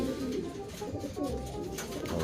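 A pigeon coos in steady low murmurs close by, a continuous throaty bubbling sound with no break, in a loft setting.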